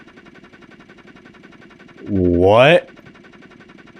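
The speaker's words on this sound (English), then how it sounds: "That was a brutal startup." In BeamNG.drive, a car engine cranks roughly, then roars briefly and loudly with a rising pitch before cutting out, over a faint steady mechanical drone, with a short spoken exclamation.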